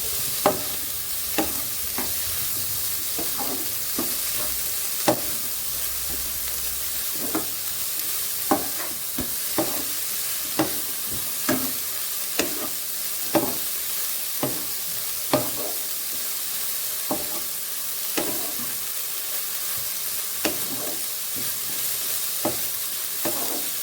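Spiced cauliflower filling for Bengali-style paratha is stirred in a pan with a spatula, giving a steady run of sharp scrapes and taps about once a second over a faint sizzle, close and without voices.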